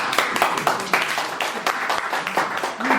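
Scattered clapping from an audience at a press conference, a brief dense patter of hands lasting a few seconds at moderate volume, with faint voices underneath.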